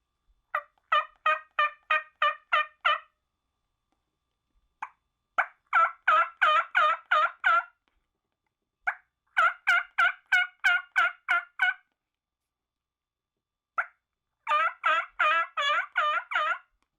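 A custom-made turkey call plays yelps meant to mimic jake or gobbler turkeys. Several close, loud bursts of rhythmic yelping come in runs of six to ten notes, separated by short pauses, with nothing else heard.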